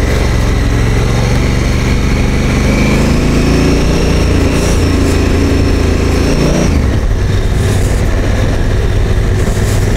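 A Honda Africa Twin motorcycle rides a sandy forest track in the Otway Forest, Victoria, its engine droning steadily and loud throughout, with the pitch dropping and shifting partway through as the rider changes speed.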